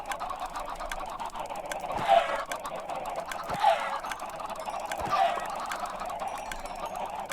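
A chicken in a dungeon-crawling video game gives three short clucking calls a second or so apart, over a steady low game background.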